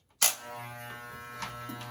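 Electric hair clippers buzz close and steady while cutting hair during a home fade haircut, with a faint crunch as they bite through the hair.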